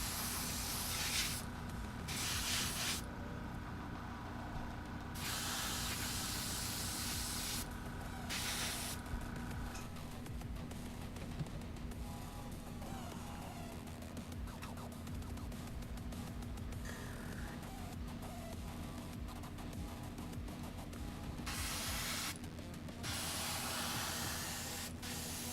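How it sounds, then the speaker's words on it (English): Paint sprays onto a plastic military model with no primer, in long, even, overlapping passes, a close, steady hiss broken by short pauses between strokes. "you're going to be fine spraying it on just like I am."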